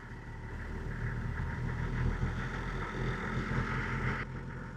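A Toyota LandCruiser 70 Series engine hums steadily as a manual throttle wheel raises the revs, a low, close, even drone that cuts off sharply near the end, with no talking.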